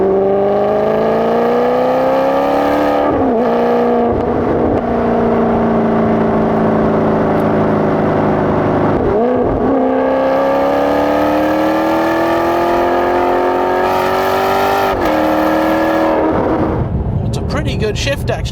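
A 2010 Maserati GranTurismo S accelerating at full throttle with the MC shift mode engaged, its engine note climbing steadily through the gears with three clear upshift dips, loud and heard from inside the car.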